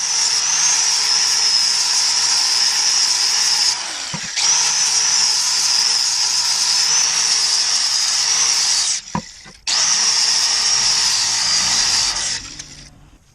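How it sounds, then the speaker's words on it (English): A power tool grinds a 45-degree chamfer around a hole in a spindle part, a loud steady high whine running in three long bursts separated by short pauses and brief clunks. "just ground a little bit like a 45-degree chamfer all the way around the hole"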